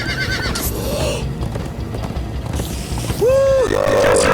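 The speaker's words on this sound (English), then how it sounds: "Come on, horses!" Horses in the Minecraft Story Mode video game gallop with steady clip-clop hoofbeats under a loud, close whinny near the end, over a busy game soundscape.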